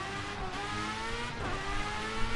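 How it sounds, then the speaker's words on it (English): Race car engines without mufflers in the video game Project CARS 2, a continuous loud droning whine with a rising and falling pitch as a car sweeps past mid-way. "This is what engines sound like when you don't have mufflers on them."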